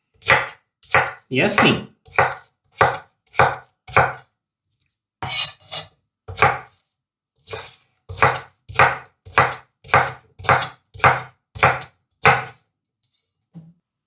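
A knife chops through a peeled cucumber on a board in a quick series of crisp, close knocks, pausing twice before a final run of steady cuts, with a brief word spoken.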